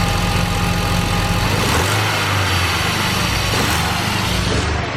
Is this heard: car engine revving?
yes